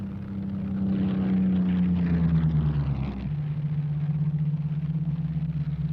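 Propeller-driven RAF fighter aircraft scrambling for an interception, a loud sustained engine drone with a steady low hum that drops in pitch midway and continues alone without voices.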